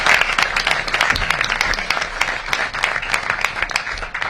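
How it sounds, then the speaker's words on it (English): Dense, steady clapping from a crowd at a Washington, DC mayoral address, continuous and fairly close throughout. "Let's give Mayor Bowser a round of applause for that presentation."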